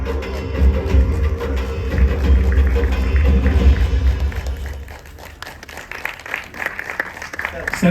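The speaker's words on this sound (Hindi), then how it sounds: "कैमरा छोड़ के थोड़ी देर के लिए तालियां बजेंगी पहले तो" Clapping from a crowd at a film trailer launch rises and carries on under a loud voice and general commotion, thinning out toward the end amid scattered noise.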